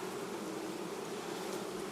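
Carniolan (Carpathian) honey bees buzz at their hive in a steady, dense drone that holds evenly throughout without pause.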